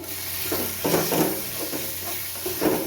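Spice paste for Bengali egg malai curry frying in a pan, a soft steady sizzle with intermittent scraping stir strokes, close and moderately loud, no talking.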